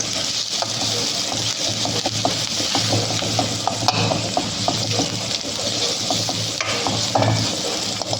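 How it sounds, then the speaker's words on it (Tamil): Ginger and garlic sauté in a pan, with a continuous loud frying crackle and rhythmic stirring scrapes throughout. "ஆட் பண்ணிட்டு இஞ்சி பூண்டு லைட்டாக குக் ஆகிற அளவுக்கு இதையும் சாத்தே பண்ணி எடுத்துப்போம்."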